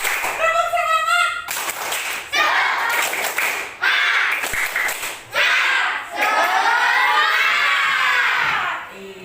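Schoolchildren in a classroom chant together and clap in rhythm during a class clapping routine, with loud shouted voices in bursts and clapping between phrases.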